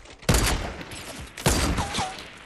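Fortnite Battle Royale gunfire: two loud, sharp bursts about a second apart, each ringing out and fading, with faint chirping game tones between them and no talk.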